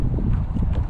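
Strong wind on a lake during a bass fishing trip, a loud continuous rumbling gust buffeting the microphone with no other sounds standing out.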